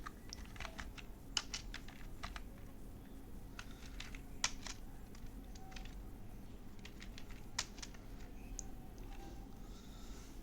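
Quiet, irregular clicks and taps from a computer keyboard as a SQL query is typed, coming in short bursts and single keystrokes at close range with no talk.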